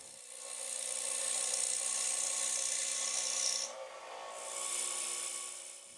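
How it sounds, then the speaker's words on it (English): Easy Rougher woodturning tool plunged into a wooden bowl blank spinning on a lathe, a steady close rasping cut lasting several seconds, briefly easing off then resuming. "we'll move the tool rest around to the front and simply plunge the rougher into the work"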